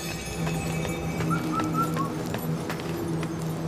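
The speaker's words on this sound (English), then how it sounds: "Okay, that's the bird calling out to me." A bird calls in the video game Wuchang Fallen Feathers with a few short, thin whistled notes in the middle of the clip, heard over a steady low ambient hum and faint rustling.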